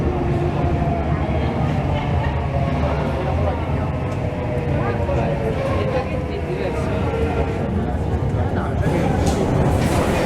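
A metro train rumbles steadily through Museo station in Prague with a constant low roar, while people talk in the background throughout.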